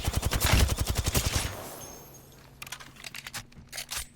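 Rapid automatic gunfire from a weapon in the video game Apex Legends rattles loudly for over a second, followed by a quieter pause and then a burst of sharp clicking taps.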